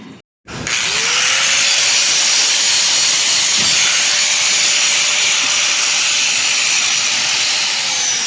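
A power grinder works the edges of a modified steel AC compressor bracket in a car repair shop, spinning up after a brief pause into a loud, steady, high-pitched whine that holds continuously for several seconds, with no talk.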